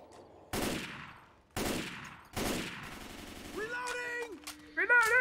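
Three loud gunshots ring out about a second apart in Left 4 Dead 2, followed by tonal game sounds and brief voices.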